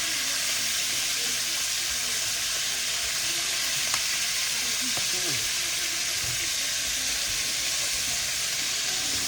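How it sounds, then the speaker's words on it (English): Asparagus sautéing in butter with garlic pepper over high heat, a steady close sizzle and frying crackle with a few faint clinks, no talk. "Sorry about the frying noise, but that's what happens when you fry"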